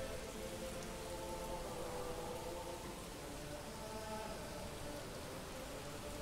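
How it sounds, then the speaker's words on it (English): Rain falls steadily in the medieval city-building game Manor Lords, a faint, even hiss of drops with no breaks from start to finish. "Rain and more rain."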